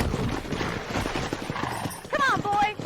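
Horse hooves clip-clopping, then a whinny near the end, in the Red Dead Redemption video game, with someone talking throughout.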